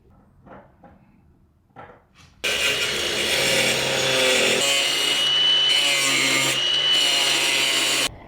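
Sawing through the edge of a plastic car bumper on a Nissan 240SX during a body kit fit, loud and continuous for several seconds after a few soft knocks and handling sounds.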